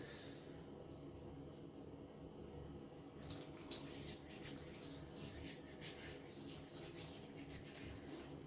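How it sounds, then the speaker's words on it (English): Water from a tin of hard shaving soap is poured and splashed onto a face, a faint trickle that turns into louder, irregular wet splashes partway through, with no talking. "I'm gonna take the soaking water and add that to my face."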